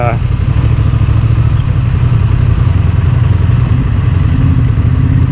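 A Honda Transalp motorcycle engine drones steadily and loudly during a test ride, with a rough low rumble and wind noise beneath someone talking over it.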